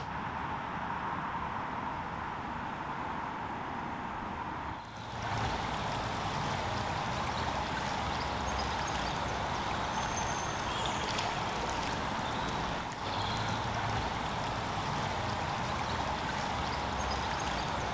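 The flooded River Ray rushes past in a broad, steady roar of moving water, heard from a long floodplain bridge, continuous and loud with slight shifts in tone and no talking.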